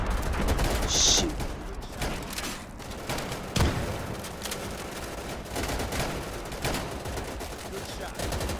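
Rifle and machine-gun fire rattles across a battlefield in the World War II shooter Easy Red 2, a steady fusillade of sharp cracks at mixed distances with a few louder close shots, under faint voices.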